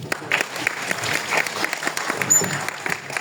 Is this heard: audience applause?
yes